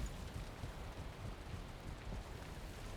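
Steady rain hisses across the world of the Valheim game, a dense, even wash of falling drops at moderate level, with no voices or other distinct sounds breaking through.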